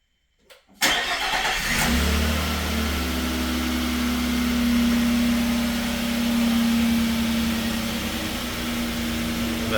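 A 2022 or later truck fitted with Z1 Off-Road Raptor lights cranks briefly, fires and settles into a steady close idle with a low droning hum.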